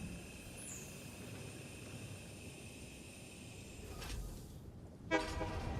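A train in the video game Satisfactory rolls along with a steady rumble, then a short toot of its horn sounds near the end.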